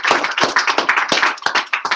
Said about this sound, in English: let's give Amy a round of applause